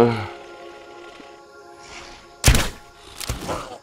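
A missed shot fired at a wolf spider in the survival game Grounded: two sharp thunking impacts about a second apart over a quiet, humming game backdrop, the first louder and punchier.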